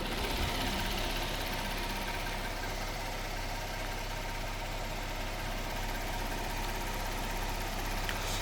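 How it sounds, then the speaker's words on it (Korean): A 2020 Kia K7 Premier engine runs steadily at idle, a constant low hum with a faint mechanical ticking, no voices, unchanging for several seconds. "본차량 나가서 엔진 소리 한번 들려드리고요"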